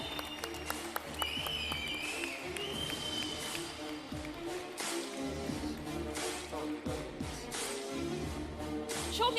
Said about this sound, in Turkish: bu kıymetli kalabalığı emek veren herkese alkışlarımızla selamlayalım efendim